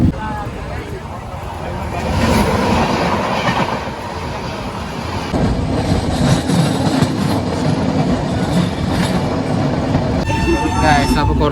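Inside a moving second class express passenger coach, a loud continuous rumble and rhythmic clatter of wheels on rails carries on throughout, with wheel squeal and rattling near the end and voices talking over it.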